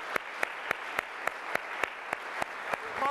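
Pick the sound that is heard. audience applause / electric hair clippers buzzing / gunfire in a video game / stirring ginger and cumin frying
audience applause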